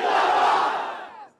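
A large crowd at a PTI political rally roars a chanted response to a slogan, loud and full at first, then fading out toward the end.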